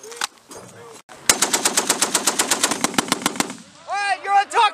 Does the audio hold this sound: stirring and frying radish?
no